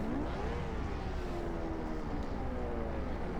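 A car engine in the video game The Crew drones steadily with a rising pitch as it revs up, a constant mechanical hum filling the scene.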